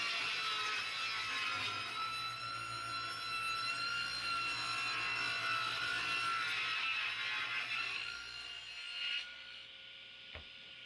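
Rough-cutting maple live edge boards to size, a steady whining saw cut with sustained tonal ringing for about nine seconds, then the blade winds down and a single sharp knock follows near the end.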